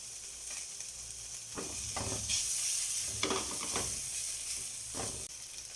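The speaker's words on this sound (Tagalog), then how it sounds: "pwede na nating ilagay yung bawang" Garlic sizzles in a hot oiled pan with a constant hiss and frying crackle. Several louder bursts of stirring and scraping come close by, and no one speaks.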